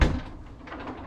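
A drawer on the fridge in a 2021 American Coach American Eagle motorhome kitchen slides open after a button is pressed, giving a short thud then a soft, quiet rolling glide close by.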